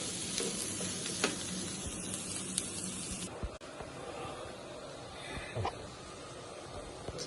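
Onion frying in half a cup of oil in a pot (degchi) for turnip curry, an even crackling sizzle with occasional stirring knocks and a sharp thud midway, close and moderately quiet.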